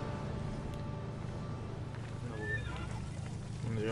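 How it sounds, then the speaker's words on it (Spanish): Horses whinny in the video game Immortals Fenyx Rising, a brief falling neigh rising midway out of a steady, fairly faint ambient game background. "hay unos caballos aquí"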